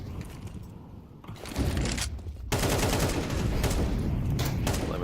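Rapid bursts of gunfire ring out during a competitive multiplayer shooter match, with dense overlapping shots that start sparse, then swell into sustained loud volleys near the end.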